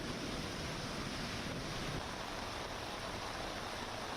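Dense, steady broadband roar of heavy monsoon rain pouring down in Mumbai, continuous and loud with no voices or breaks.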